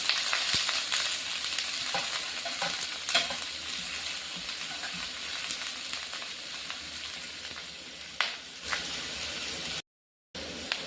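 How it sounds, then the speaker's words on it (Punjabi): Coarsely chopped onion frying with green chilies in a pan gives a steady, close sizzle, with occasional scrapes and clicks from stirring and a brief drop to silence near the end. "ਪਿਆਜ਼ ਆਪਣਾ ਭੁੰਨਣਾ ਸਟਾਰਟ ਹੋ ਗਿਆ ਜੀ"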